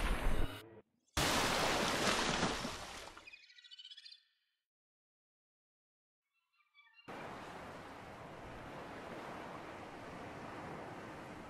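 Ocean waves in Subnautica, a surging rush of water at the surface that cuts to near silence as if underwater, then returns as a steady, moderately loud wash with no voices.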